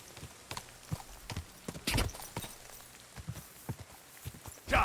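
A black horse's hooves clip-clop at a steady walking pace in Kingdom Come Deliverance 2, close and fairly quiet, with a few louder, heavier steps.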